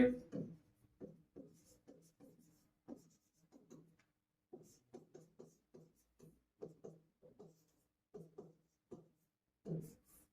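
A pen writes on paper during a higher math lesson, making close, faint scratching strokes in short bursts with brief pauses between them.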